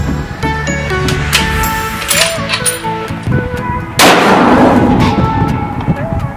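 An AWM sniper rifle fired at 1,000 yards sounds as a sharp, loud broadband report near the 4-second mark over a busy, music-like background, with fainter impulsive bangs earlier.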